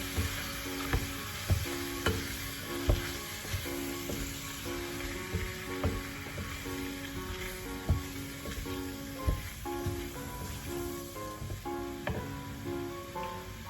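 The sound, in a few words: stirring flour into stew to cook it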